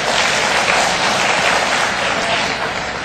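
An audience at a motivational talk gives loud, dense, continuous applause, many hands clapping at once with no gaps over several seconds.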